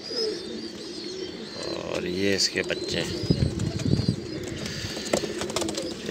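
Sialkoti pigeons coo softly with a low, throaty note among rustling and wing flaps, while someone talks over them.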